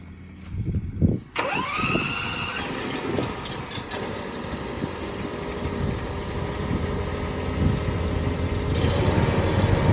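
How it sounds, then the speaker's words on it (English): A Fendt RoGator sprayer's engine cranks briefly and catches, then settles into a steady, loud idle that carries on through the rest of the clip. "So to start it, we'll have to have this up, just our parking brake, and then there's your choke and there's your key."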